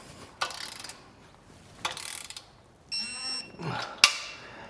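Ratchet wrench tightening the bolts of a Blue Ox base plate kit on a 2023 Ford Ranger, heard as several short bursts of rapid clicking separated by pauses, with a final sharp metallic clink, close and fairly quiet.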